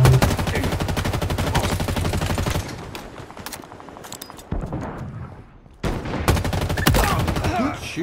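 Rapid gunfire and bursts of shooting from the Halo Infinite video game, heavy and continuous in stretches with brief quieter gaps, running on a budget gaming PC.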